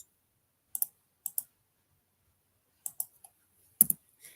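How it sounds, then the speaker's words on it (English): Several short, crisp clicks of keys on a computer keyboard, in sparse clusters with pauses between them, fairly close and quiet, no talking. "let me type it."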